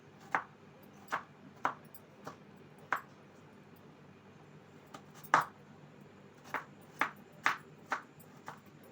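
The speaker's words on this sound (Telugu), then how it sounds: "ముందుగా ఒక పెద్ద ఉల్లిపాయను తీసుకొని ఇలా కొంచెం పెద్ద పెద్ద ముక్కలుగా కట్" A knife chops a large onion into big pieces on a board, a dozen sharp, separate knocks landing at an uneven pace, close and clear in a quiet kitchen.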